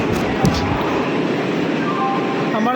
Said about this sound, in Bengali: আমাদের ট্রেন ঢুকছে, এটা 7 নম্বর প্ল্যাটফর্ম